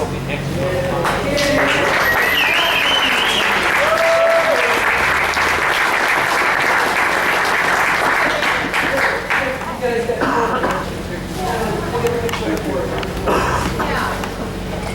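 Loud, sustained crowd applause and cheering at outdoor rodeo grounds, a dense wash of clapping that holds steady for the whole stretch, with voices and faint whoops mixed in.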